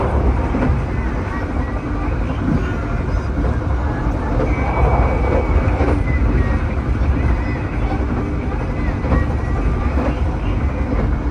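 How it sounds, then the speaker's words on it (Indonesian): Sancaka regular passenger train running between Jogja and Surabaya, a steady loud rumble of wheels on rails with rattling carriage noise throughout, heard from inside the coach, with faint voices in the background. "perjalanan kereta api Sancaka yang reguler Jogja-Surabaya"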